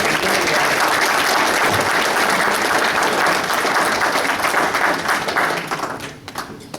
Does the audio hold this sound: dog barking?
no